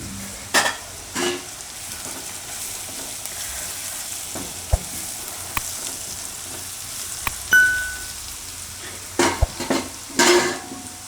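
Garlic, red chili powder and coriander-cumin powder frying in a pan make a low, faint sizzle, with sparse clinks and scrapes of a utensil against the pan and a couple of louder knocks near the end.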